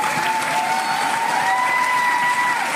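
An audience claps and cheers in a hall, a dense continuous roar of applause at steady loudness from start to end, with a faint whistle-like tone running through it.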